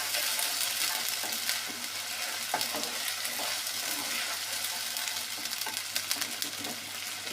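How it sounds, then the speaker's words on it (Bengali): Ginger-garlic paste sizzles in a hot pan with frying onions while it is stirred, giving a steady, close hiss broken by soft scraping strokes, with no talking. "এখন দিয়ে দেবো এখানে আদা রসুন বাটা, আর একটু দেবো। একটু নেড়ে ভেজে নেব।"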